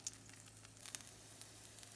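Pulled pork fries in a pan, giving a faint, steady sizzle with soft crackling pops throughout, heard alone without any talk.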